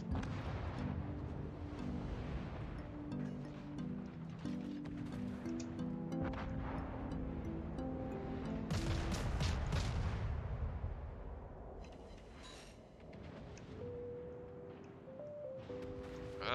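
Naval artillery from warships in World of Warships booms across the sea, with a heavy, rumbling salvo midway through over a steady bed of game music and ambient noise.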